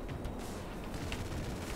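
Dense, continuous rattle of rapid gunfire in GTA 5 Online, steady and loud throughout with no pauses, a busy wash of shots and explosions.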